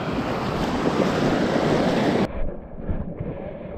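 Loud, steady roar of sea waves with wind buffeting the microphone, cutting suddenly to a quieter, duller wash of surf as the recorder moves.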